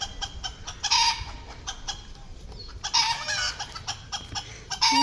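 Chickens clucking and a rooster crowing at a Thai forest temple, several birds calling in irregular bursts close by over a steady outdoor background.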